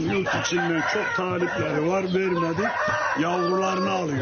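A Turkish Asil Indian rooster, a repeated winner of a nationwide Turkish rooster beauty contest, crows in several long, drawn-out calls close by, heard under someone speaking Turkish.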